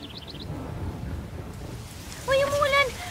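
Steady rain falls outdoors with an even, hissing wash. Voices briefly call out near the end.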